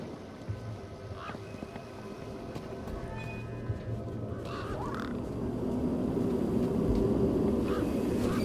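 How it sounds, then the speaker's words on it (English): Birds cawing in the video game Beyond a Steel Sky, scattered calls over a steady engine-like rumble and ambient drone, with a few brief caws standing out. "Those birds weren't going to let me anywhere near the back of the truck."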